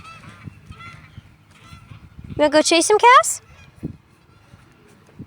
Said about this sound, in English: I hate those freaking geese.